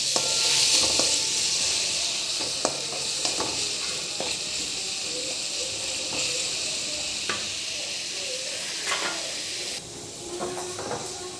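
Ingredients for a ridge gourd, cucumber, peanut and sesame chutney frying in a pan, a close, steady sizzle and hiss with occasional stirring scrapes and clicks throughout, no voices present.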